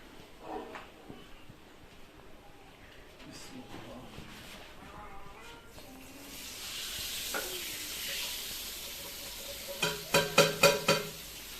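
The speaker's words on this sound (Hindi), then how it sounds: "हम भी जो है ना वो प्याज का तड़का लगा लेते हैं।" Onions sizzle in Dalda ghee for a haleem tarka, a soft, steady frying hiss under quiet talk, with stirring scrapes and a cluster of sharp clinks near the end.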